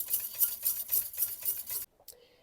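A whisk beats meringue with sugar in a bowl, a fast, rhythmic, scratchy swishing in steady strokes that stops abruptly near the end, followed by a faint clink.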